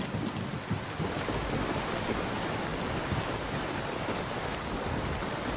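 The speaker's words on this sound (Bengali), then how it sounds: "মা, বৃষ্টির জল তো সব রান্নাঘরে পড়ছে।" Steady rain with rolling thunder in a Bengali cartoon, a continuous wash of downpour that pours into a kitchen, with a low rumble throughout and no voices.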